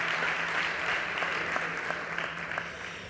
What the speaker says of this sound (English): Big applause for Lucas.